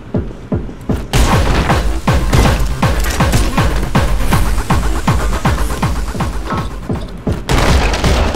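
Video game explosives blowing up after being shot, a loud dense run of booming blasts and crackling bangs in rapid succession that keeps the whole stretch busy from start to finish.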